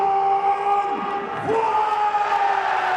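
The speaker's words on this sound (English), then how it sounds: "Listen to that crowd. It's obvious who the favorite is here tonight." Pride 19 mixed martial arts crowd in a large arena, a dense sustained roar with whistles and shouts rising and falling throughout, loud and distant, with a tonal hum running under it.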